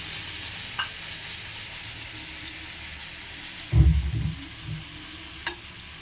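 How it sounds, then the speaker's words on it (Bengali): Mustard paste sizzles in a hot pan while cooking a Bengali pabda fish curry, a steady bright hiss with one clattering stir partway through and a few small knocks. "এটা ভাজাভাজি করছি মশলাটা বা সবজিটা"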